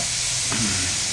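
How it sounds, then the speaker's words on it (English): Chanterelle mushrooms hit a hot pan with a brief, close, steady hiss of sizzling, a small rustle rising midway. "I'm going to start off with putting our chanterelles in."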